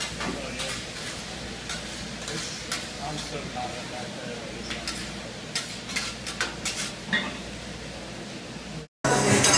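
Beef, pork and sausage stir fry cooking in a pan for Mongolian barbecue, a steady sizzle with utensil scrapes and clinks running throughout, close and fairly loud, with a brief dropout near the end.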